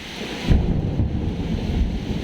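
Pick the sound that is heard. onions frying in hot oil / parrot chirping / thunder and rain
thunder and rain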